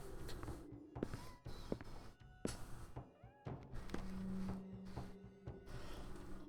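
A house cat meows a few times amid soft thumps and clatter, with short tonal cries scattered among quiet indoor knocks and a faint hum, all close and fairly quiet.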